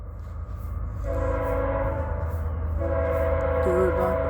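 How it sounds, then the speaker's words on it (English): A BNSF autorack freight train passing with its horn sounding in two long tonal blasts over the heavy rumble of the train. "That's an Autorack train, BNSF, alright."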